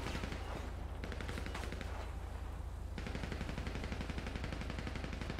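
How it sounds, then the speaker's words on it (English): Rapid multiple gunshots ring out in a GTA V police patrol scenario, a steady dense barrage of repeated shots running almost the whole time with a brief lull near the middle, loud and continuous with no talk. "Shots fired, multiple shots"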